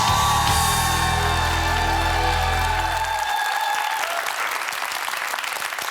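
Studio audience applauding after a correct answer on a televised Korean quiz show, preceded by a sustained low stinger tone and steady, dense clapping throughout.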